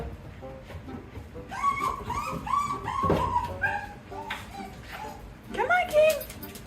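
A dog whimpers and yips in high, wavering cries with a few short barks, close by, while people talk over it.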